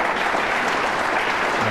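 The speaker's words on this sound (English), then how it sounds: "Round of applause tells you that that was frame ball." Steady applause from a snooker audience at the 2007 Premier League final, a dense, even patter of many hands clapping at moderate loudness throughout, with no talk over it.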